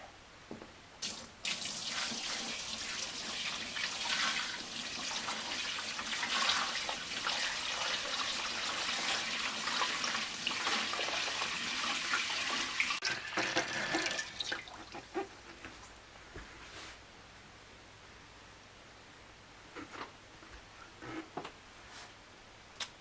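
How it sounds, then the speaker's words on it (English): Water pouring steadily into a shrimp aquarium tank for about fourteen seconds, a loud gushing splash that stops, followed by a few faint drips. "I'm just going to pour in the water."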